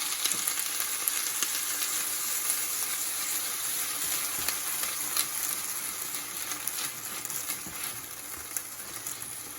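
Fiddleheads sizzle and crackle steadily in overly hot oil, a close, continuous frying hiss with occasional pops and no talking.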